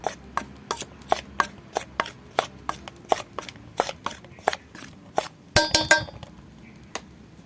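Gourd peel chop mixture being mixed by hand with cornflour, giving a steady run of sharp, close slapping and squelching pats about twice a second, with a louder burst near the end, no talking.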